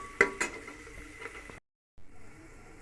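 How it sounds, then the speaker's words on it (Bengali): Chopped onions fry in a pot as a spoon stirs and clinks against the metal, quiet and close, followed by a short gap and then soft sizzling. "এগুলো একটু ভালো করে নাড়াচাড়া করব।"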